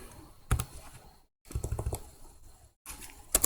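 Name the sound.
typing a value on a computer keyboard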